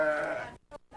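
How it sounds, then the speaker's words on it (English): Livestock in a village in Niger bleat nearby: one long, loud wavering sheep or goat call followed by two short, quieter bleats. "looks like we got to kick the sheep and the goats out of the way here"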